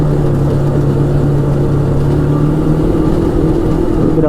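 Arctic Cat Wildcat 1000X UTV engine under load, a loud, close, continuous droning roar that holds steady with a slight rise in pitch toward the end, no voices.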